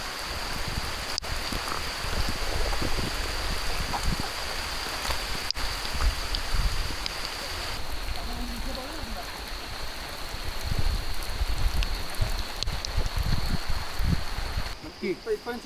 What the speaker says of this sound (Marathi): पाऊस चालू आला जोरात.